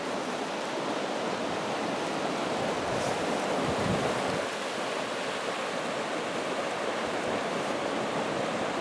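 The Tongue River flows nearby, a steady, broad rushing of water with wind noise over the microphone, continuous and fairly quiet with no voices.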